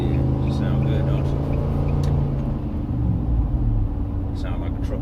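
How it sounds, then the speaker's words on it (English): A Nissan Titan pickup's Flowmaster exhaust gives a deep, throaty rumble close by, shifting in pitch as the engine revs. "Sound like a truck's supposed to,"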